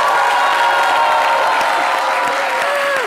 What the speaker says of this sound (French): Bravo, on les applaudit très fort.